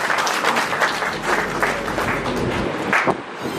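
An audience at a newspaper's anniversary gathering of writers and journalists claps continuously, a dense, close patter of hands that runs the whole time and thins slightly toward the end.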